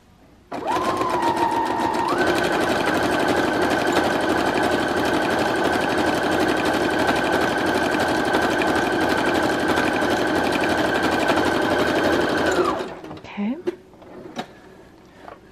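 A Brother Project Runway CE1100PRW sewing machine running decorative stitch number 20 at 2.5 stitch length, a loud close continuous motor whir with rapid needle chatter for about twelve seconds, then stopping with a few small clicks.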